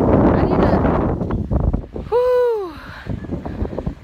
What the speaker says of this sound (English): this wind is like pushing the stroller backwards into me